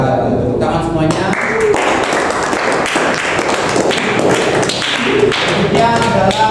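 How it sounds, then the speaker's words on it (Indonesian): Applause from a classroom audience during a teacher-training lesson, a dense continuous patter of many hands clapping close by for several seconds, with some voices mixed in. "Tepuk tangan semuanya."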